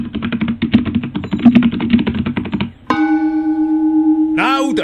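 Rapid computer keyboard typing runs in a dense, even patter of clicks for a few seconds, then stops, followed by a sustained ringing bell-like tone and a rising swoosh.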